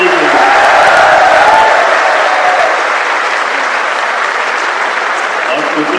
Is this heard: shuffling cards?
no